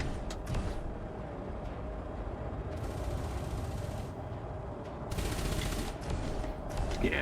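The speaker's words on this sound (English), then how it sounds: "people firing laser beams." Laser weapons fire in sustained, buzzing bursts during a space battle in the game Elite Dangerous, layered over a constant deep engine rumble, with the salvos swelling and cutting off at intervals.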